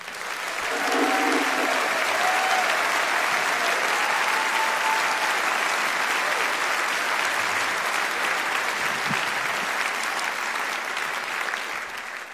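A large concert audience applauds a big band loudly and steadily, with continuous dense clapping that holds throughout and tapers slightly at the end.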